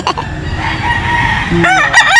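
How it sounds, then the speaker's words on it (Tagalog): A loud gamefowl rooster crowing close by at a gamefowl farm, its strained, rising call cutting over a busy background of other fowl and ambient noise. "From RB Mulawin din po itong manok na Irene."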